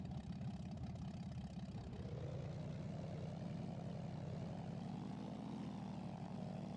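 A light propeller airplane engine runs steadily at close range, a continuous droning buzz with a throbbing low pulse and a slight rise in pitch partway through as it catches and settles into a rough idle.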